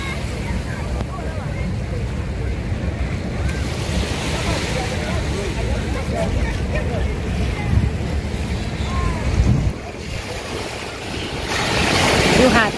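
Ocean surf rolls steadily onto Nai Harn beach in Phuket, a broad continuous wash with swelling breakers and wind buffeting the microphone, while people talk faintly in the background.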